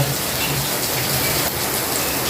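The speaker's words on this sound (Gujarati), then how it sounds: "જોરદાર વરસાદ ચાલુ થઈ ગયો છે" Heavy rain pours down steadily during a summer storm in Junagadh, a dense continuous hiss of drops drumming on surfaces, loud and unbroken from start to finish.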